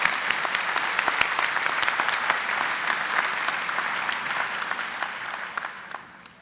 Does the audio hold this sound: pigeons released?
no